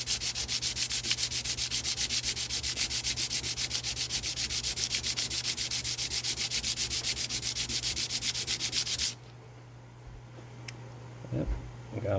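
Hand sanding with 120 grit sandpaper gives a steady, fast, rhythmic scratching of rapid strokes for about nine seconds, then stops abruptly, leaving quiet with a few faint handling noises.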